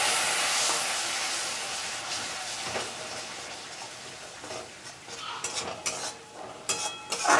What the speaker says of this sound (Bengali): যাতে মশলাটা পুড়ে না যায় আমি একটু জল দিয়ে কষিয়ে নেব।